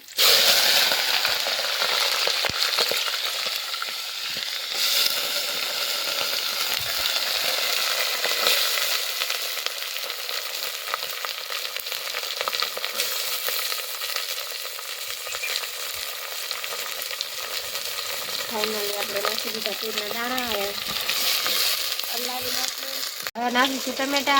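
Continuous vigorous sizzling as pigeon peas fry in hot oil, with scraping stirs throughout, staying loud and close from start to finish.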